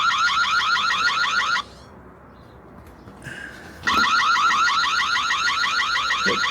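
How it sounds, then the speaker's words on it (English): Automatic chicken coop door alarm sounding loud and close, a rapid warbling electronic siren that stops for about two seconds with a faint click, then resumes just as loud. "When you hit the alarm,"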